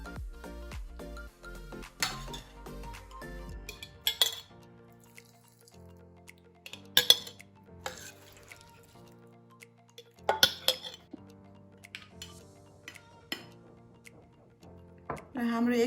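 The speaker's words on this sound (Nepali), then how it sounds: "र अब म यसमा अचार राख्दैछु।" Chicken pickle is spooned into a dry glass jar, giving scattered light clinks and taps of a spoon against glass, a few sharper clatters standing out in a quiet kitchen over soft background music.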